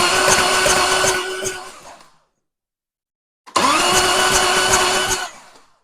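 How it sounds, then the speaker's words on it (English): Starter on an old, long-idle 30-year-old Harley-Davidson motorcycle cranking the engine in two loud, close whirring bursts of about two seconds each, separated by a pause of silence, the engine never catching. "Crank starter over."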